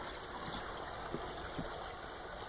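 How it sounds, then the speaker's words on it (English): Water runs steadily through a reservoir channel at a dam breach, a continuous soft rushing and trickling with a few faint knocks, fairly quiet and with no talking. "In there you can hear water"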